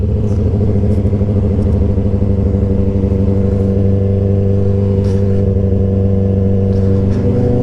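Cars driving and revving on a city street, a loud close engine idle with strong steady rumbling tones throughout, plus a few light clicks and clatters scattered on top.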